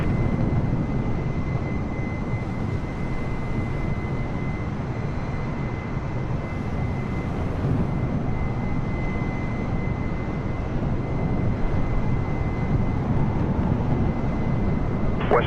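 An Air Canada airliner on runway 23 at takeoff: a steady, loud broadband engine roar with a faint high whine, unchanging over the whole stretch.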